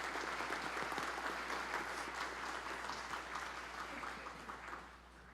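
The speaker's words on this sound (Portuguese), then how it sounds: "uma salva de palmas para a Marinha" Sustained audience applause at a ceremony honoring the Brazilian Navy in the São Paulo state legislature, a dense, steady roar of many hands that fades slightly toward the end, with no talking over it.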